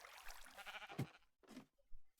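Minecraft sheep bleating near a wool shearing point, two or three short wavering bleats heard close and fairly quiet, with no talk over them.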